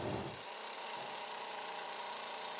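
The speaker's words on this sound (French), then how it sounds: "Le pistolet sert à serrer la chaîne" Pneumatic gun tightening a lashing chain on a military shipping container at a dockside, a steady high-pitched whirring drone that stays loud and constant after a brief low thump at the start.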